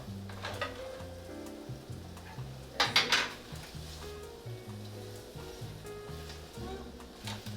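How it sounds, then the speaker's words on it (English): Extra-firm tofu is broken up in a pan with a wooden spoon: soft repeated scraping and prodding over a light sizzle, with a brief cluster of sharper clinks midway, close by. "So use your wooden spoon first, and then you can use your potato smasher to kind of smash it."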